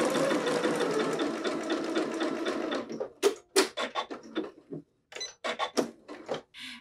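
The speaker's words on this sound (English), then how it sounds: "let's stitch our neck and arm bands" A sewing machine stitches the short ends of fabric strips together, right sides facing, for the neck and arm bands of a racerback tank top. It runs in one continuous whirring stretch, then breaks into a series of short stop-start bursts.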